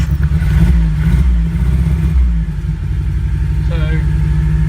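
Mitsubishi Galant GTO engine running on test after a fuel pump check, steady loud low rumble with a couple of throttle blips, voices talking over it.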